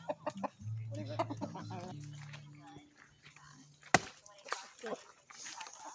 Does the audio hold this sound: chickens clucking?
yes